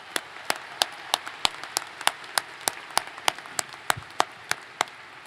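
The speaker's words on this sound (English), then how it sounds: "thank them for their contributions to the success of today's graduates and of Washington State University with a big round of applause." Faint applause at a Washington State University spring commencement ceremony, coming as sparse, evenly spaced sharp claps that keep a steady beat for several seconds without any speech.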